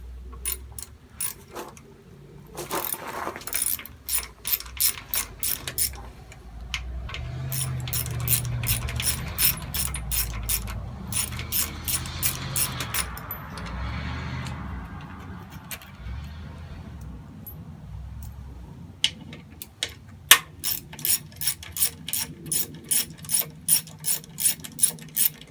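A ratchet wrench loosens and removes 8mm bolts on a Honda CRF250L motorcycle during a radiator guard install, giving loud, close bursts of rapid clicking with metallic clanks and handling noise between runs.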